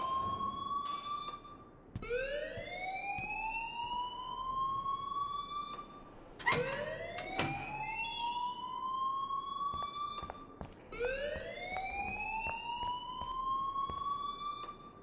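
A school alarm in the video game Life is Strange, a rising electronic siren that sweeps upward in long repeated cycles, loud and alone.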